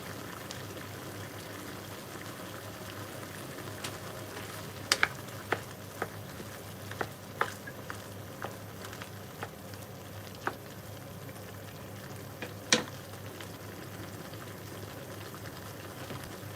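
Sweet and sour sauce with pineapple, peppers and onions cooks in a pan, giving a steady low sizzle and bubbling with a few sharp clicks and clinks scattered through, and no one talking.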